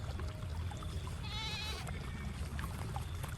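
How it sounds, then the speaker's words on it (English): A goat gives one short, wavering bleat in the middle, set against a constant rushing background noise that stays loud throughout. "An adventure with a goat."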